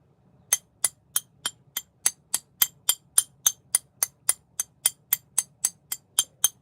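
Sharp glassy knocks on glass in a studio, about twenty evenly spaced taps in a steady rhythm, close and crisp over a faint low hum, with no talking.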